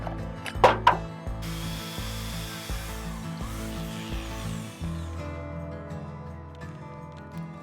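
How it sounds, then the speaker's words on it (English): A screwdriver pries a wood plug out of a hole saw: two sharp knocks, then a run of rough grinding, creaking scrapes and clicks of metal against wood, close and fairly loud, easing off toward the end. "to get the wood out of these hole saws, you just jam a screwdriver in there and pry it out"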